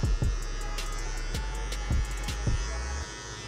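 Electric hair clipper fitted with a half comb guard, lever open, buzzing steadily throughout with a low mains-like hum, with brief louder bursts as it moves through hair.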